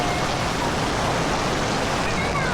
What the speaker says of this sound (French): Quand il pleut, c'est pas pour rigoler.